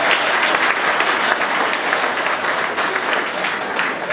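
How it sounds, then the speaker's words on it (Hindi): Loud, dense applause from the audience at a Hindi kavi sammelan poetry recital held at a collectorate, with clapping filling the whole stretch evenly and close by. "जोरदार तालियां बजाकर बताएं।"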